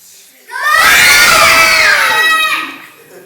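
A group of children at a church children's service lets out a loud, sustained shared scream lasting about two seconds, rising sharply and then fading away.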